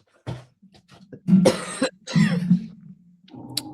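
A person coughs a few times in quick, rough bursts, close and fairly loud, followed by a brief vocal sound.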